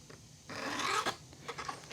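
A hand file rasps across the teeth of a Husqvarna 550 XP Mark 2 chainsaw chain, touching up a still-sharp chain in a few close, scratchy strokes, with a steady grinding stretch and shorter rubs after.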